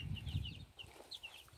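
Backyard chickens on a bright day cluck and chirp in a string of soft calls at a moderate distance, over low rumbling noise at the start.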